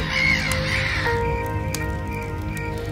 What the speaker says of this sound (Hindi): पेड़ के इर्द गिर्द हवा में कौवे इकट्ठे होकर कांव कांव करने लगे